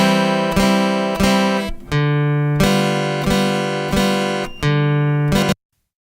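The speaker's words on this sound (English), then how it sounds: "A bass chord accompaniment breaks the chord up into two pieces." Steel-string guitar plays a bass-chord accompaniment, a single bass note followed by three strummed chords in a steady waltz-like rhythm, close and clear, ending abruptly.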